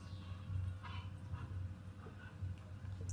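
Chop the dog in the video game GTA V gives faint, brief whimpers and yips over a low constant background hum, quiet and intermittent.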